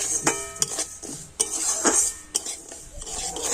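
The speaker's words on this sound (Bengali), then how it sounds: "আবার আমি একটু হালকা করে সব কিছু ভালোভাবে নাড়াচাড়া করে নেব" A utensil stirs semolina, salt and sugar in a pan, making a quick run of scraping, clinking strokes against the metal over a faint sizzle.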